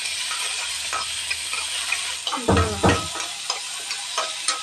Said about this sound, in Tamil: அதுக்கு பிறகு இந்த தக்காளியும் அதில் போட்டு வணக்கிறோம்